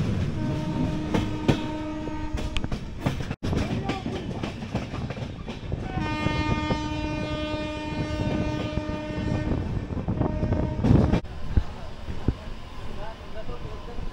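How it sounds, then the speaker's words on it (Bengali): A Howrah–Medinipur local train pulls into a busy station platform with a low rolling rumble and clatter, sounding long horn blasts, amid crowd noise and voices. "हावड़ा मेदिनीपुर लोकल प्लेटफॉर्म क्रमांक 3 पर आ रही है"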